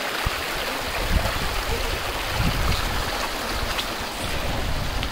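Dhumalwadi waterfall near Phaltan, water rushing in a steady broadband roar that stays loud and even from start to finish with no voices.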